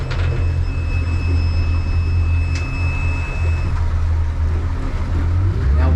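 A Stabicraft 1850 boat with a Yamaha F115 outboard runs with a strong, steady low engine drone and water rush, loud and continuous, with a thin whine early on.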